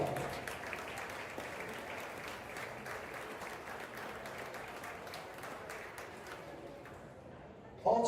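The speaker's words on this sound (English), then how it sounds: "Let's give him a big round of applause." An audience applauds at a high school's 100-year celebration, a dense, steady wash of many hands clapping that holds for several seconds, then stops abruptly with a brief knock at the end.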